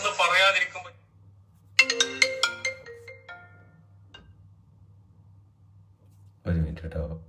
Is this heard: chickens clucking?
no